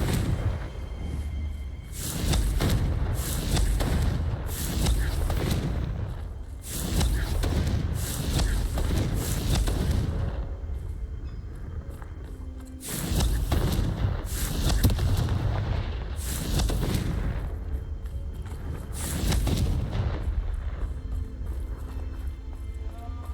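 Confringo fire spell explosions from the Hogwarts Legacy video game go off as loud, booming bursts, several in quick succession with short gaps, set over a constant rumbling game soundscape.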